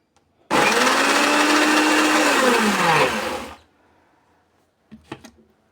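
A kitchen blender grinds fresh homemade cheese with thyme, a loud continuous whirring roar for about three seconds that winds down. A few faint clinks and knocks follow.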